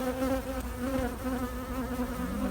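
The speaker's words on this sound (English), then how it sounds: "bees coming up to the top" Honeybees swarm up to the top of an open hive toward a hand, a steady close buzzing hum with wavering pitch and no talking.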